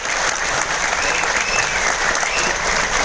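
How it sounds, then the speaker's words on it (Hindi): A crowd at a training event for a trainer gives loud, dense, sustained applause that holds steady throughout, with a faint voice underneath. "जोरदार तालियां बजनी चाहिए"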